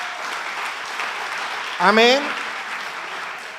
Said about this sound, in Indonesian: Yang setuju beri tepuk tangan dulu untuk Tuhan kita.